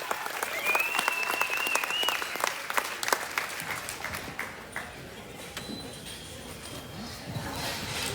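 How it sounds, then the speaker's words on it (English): A crowd claps at a livestock show, the applause fairly distant with scattered sharper claps, tapering into a quieter room tone with a faint whistle-like tone early on. "Give them a big round of applause."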